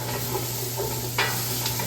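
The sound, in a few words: ground beef frying and steaming in a pot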